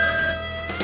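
A telephone bell rings in an office, a brief loud metallic trill that fades off near the end.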